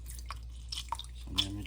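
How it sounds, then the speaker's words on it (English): Lemon juice squeezed by hand drips onto a Thanksgiving turkey: a few soft, quiet drips and small splashes spaced apart over a faint room background. "Now we're gonna squeeze some lemon in there"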